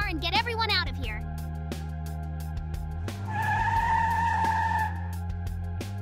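A car driving away in Minecraft opens with a short squeal of tires, then a steady engine drone, with a brighter revving surge partway through.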